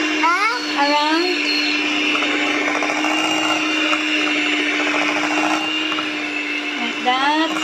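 An electric mixer whirs steadily through cheesecake batter, a loud, even motor drone running the whole time close by, while an adult and someone talk over it.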